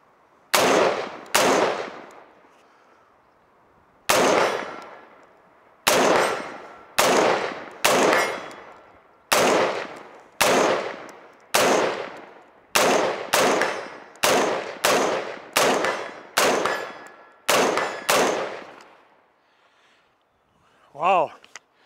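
Sharp rifle gunshots fired close up through a Vortex VMX-3T magnifier, about sixteen loud cracks spaced roughly a second apart with short pauses, each decaying quickly into silence, followed by a brief voice at the end.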